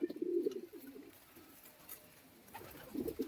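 Pigeons coo in a loft, low throaty calls bunched near the start and again at the end, with a quieter stretch between and no talk.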